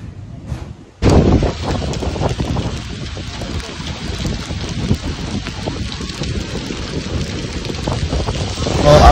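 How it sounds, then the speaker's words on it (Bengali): Light rain falls on the road between Dalhousie and Dharamsala in Himachal, a steady close patter and hiss starting abruptly after a second and continuing with wind. "মোটামুটি বৃষ্টি ওয়েদার, হালকা হালকা বৃষ্টি পড়ছে।"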